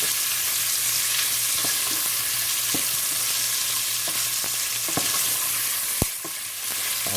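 Food browns in a hot pan for a chicken bog, giving a steady, close sizzle and crackle that holds throughout, with a few sharp stirring clicks and one louder knock near the end.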